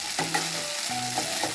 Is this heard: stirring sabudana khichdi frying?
yes